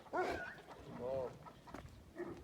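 A dog gives a few short barks and yips close by, with quiet voices in the background.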